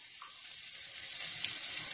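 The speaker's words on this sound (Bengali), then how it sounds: "এদিকে বেগুনটা ভাজা হচ্ছে" Eggplant pieces frying in a pan make a steady, close sizzle with a bright crackling hiss and nothing else over it.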